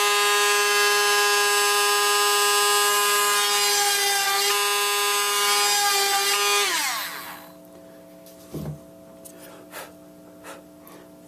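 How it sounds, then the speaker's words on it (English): Power drill boring holes through wooden trestle stringers, a loud steady high-pitched whine that winds down after several seconds, followed by a few faint knocks and handling sounds. "we can't just drill these in place in line, just one over the other"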